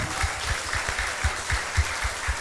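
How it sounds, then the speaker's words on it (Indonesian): An audience at a talk on artificial intelligence and the future of young people applauds a professor, a steady wash of clapping with low thumps recurring every quarter second or so, moderately loud and without speech. "tepuk tangan untuk Prof. Yudo"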